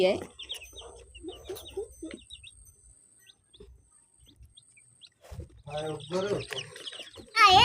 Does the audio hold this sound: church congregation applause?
no